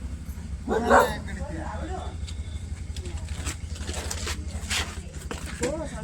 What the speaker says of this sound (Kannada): ಅವ್ರ ಮನೆ ನಾಯಿ ನಮ್ಮ ಮನೆಗೆ ಬಂದ್ ಅವ್ರಿಗೆ ಬೊಗಳತ್ತೈತಪ್ಪ